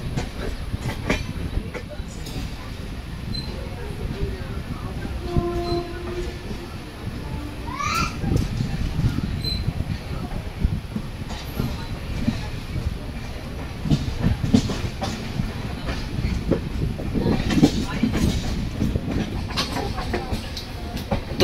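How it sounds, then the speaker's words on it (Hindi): Sampark Kranti Express pulling slowly into platform 1 at Bandra Terminus, with a steady rolling rumble, soft wheel clatter and brief squeals over continuous rail noise, and faint voices in the background. "हमारी जो संपर्क क्रांति एक्सप्रेस है इसको बांद्रा टर्मिनस के प्लेटफॉर्म नंबर 1 पर अभी लगाया जा रहा है"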